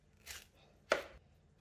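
A knife chops through a pumpkin with two crisp cuts, a lighter one followed by a sharper, louder chop, each cut standing alone against quiet.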